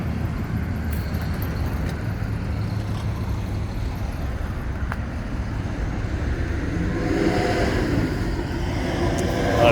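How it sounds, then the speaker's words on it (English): Steady rush-hour road traffic roars continuously beside a parked orange 2005 Jeep Wrangler X, a dense, loud wash of passing cars and trucks that swells slightly toward the end. "I apologize for the background noise here."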